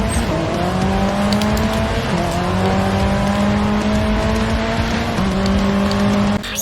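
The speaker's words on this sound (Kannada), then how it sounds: "Punch the throttle and let the engine roar." Car engine in a PC racing video game on a straightaway, roaring loud and close at high revs, with two clear pitch drops as it shifts gears before climbing again.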